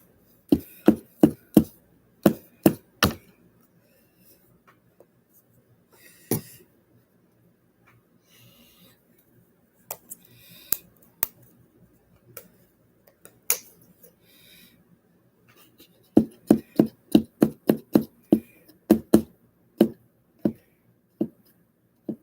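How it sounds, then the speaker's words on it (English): A plastic bottle is tapped and squeezed up close, giving sharp crisp clicks in quick bursts with quiet gaps between, then a long run of rapid taps that thin out toward the end. "Make tapping noises and squeeze it a little bit every once in a while,"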